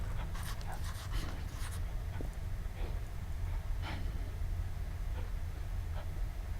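A dog attacking in the horror video game Penumbra Overture, heavy panting and snorting over a constant low rumbling background, with faint sharper noises here and there.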